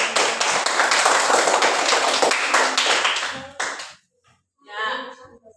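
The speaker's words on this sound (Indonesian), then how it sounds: "Tepuk tangan untuk kelompok 1." Classroom applause for a student group at a primary school, a loud burst of many hands clapping for about three seconds that cuts off, followed by a brief voice.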